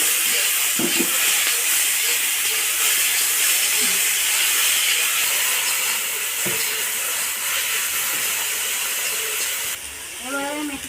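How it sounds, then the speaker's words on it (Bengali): Fenugreek leaves hit hot oil tempered with dried red chillies and black cumin in a pan used for frying aubergine, giving a steady loud hiss and sizzle throughout with a few faint clinks. "ধুয়ে রাখা মেথি শাকগুলোকে দিয়ে দেবো।"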